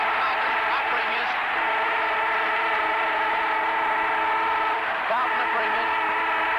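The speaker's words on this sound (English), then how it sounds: "The siren goes." A football ground siren sounds to end the 1972 Carlton premiership match, heard on a Melbourne radio broadcast as a loud, sustained tone over crowd roar for several seconds.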